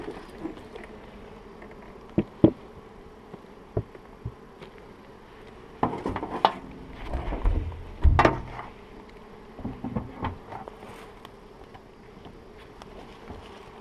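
Honeybees at an open hive in a lavender field, a low steady hum with scattered louder buzzes of single bees passing close, plus occasional handling knocks.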